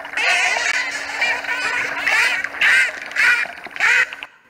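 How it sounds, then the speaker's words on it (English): Recorded dolphins give bursts of synchronized squawks, a run of bright, harsh, repeated calls in quick pulses, loud and close, ending abruptly. "So they synchronize their vocalizations, like you just heard. Those are synchronized squawks."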